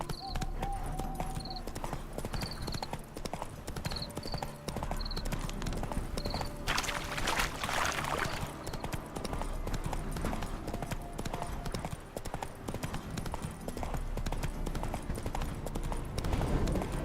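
Steady horse hooves in a video game clip-clop at a walking pace over a constant ambient backdrop, with a brief swell of noise partway through.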